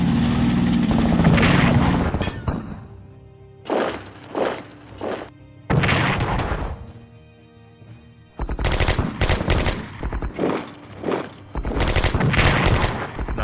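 Defensive artillery and machine-gun fire from the wargame Strategic Command: dense rattling bursts and heavy thuds in several loud volleys, separated by brief lulls, with no talking.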